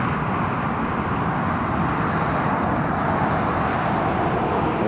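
A TUI Boeing 737 MAX arriving from Geneva at Newcastle Airport gives a steady, loud, broad jet roar that holds evenly throughout with no voices.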